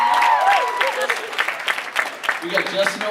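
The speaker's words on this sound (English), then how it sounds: "Give Justin a hand for coming up here." An audience claps for a volunteer coming up on stage at a live show. The applause is steady and mixed with someone speaking over it.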